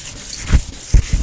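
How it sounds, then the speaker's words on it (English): Sandpaper is rubbed by hand over a plastic Power Wheels toy car part, making close scratchy strokes in short uneven bursts with a few louder thumps of contact. "Start sanding this big piece."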